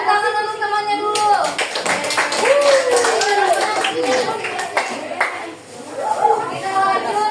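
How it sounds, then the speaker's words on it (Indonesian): A group of children claps for their classmates during a classroom lesson, with scattered claps and young voices talking and calling out over the clapping. "Beri tepuk tangan untuk temannya dulu."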